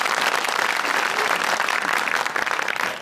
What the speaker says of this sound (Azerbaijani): biz gürültü alqışlarınızla başlayırıq